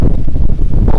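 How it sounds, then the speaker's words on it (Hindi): Strong wind buffets the microphone outdoors beside a tall tree carrying a flag near a large village mosque, a loud, continuous low roar with gusty swells and no speech. "बहुत ही आज तेज़ हवा चल रही है जी"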